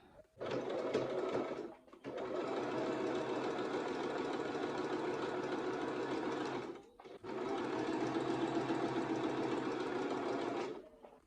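A sewing machine stitches a buttonhole in thin fabric, running in three steady whirring bursts of rapid mechanical chatter separated by short pauses, close up with no talking.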